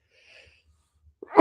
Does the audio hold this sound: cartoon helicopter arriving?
no